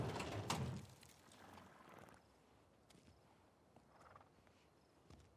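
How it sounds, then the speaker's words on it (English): A horse gives a short whinny at the start in the video game The Last of Us Part II, then a quiet outdoor background with faint scattered rustles and thuds. "Oh, I forgot there are horses!"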